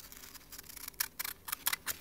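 Sharp sewing scissors cut paper for an envelope, giving a string of quick, crisp snips that grow louder and more distinct near the end, alone and close by.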